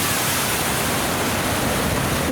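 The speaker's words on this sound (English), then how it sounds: "we're filming a transit go through some water" A Ford Transit van ploughing through deep floodwater, a loud, continuous broadband rush of churning and spraying water with no let-up and no voices.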